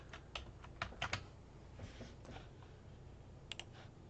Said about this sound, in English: Now I'll type in Julia.